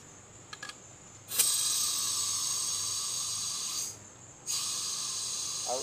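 Compressed air hisses steadily from an air hose being hooked up to a Harbor Freight sandblaster, a loud broadband rush that starts abruptly, holds for a few seconds, briefly cuts out, then resumes.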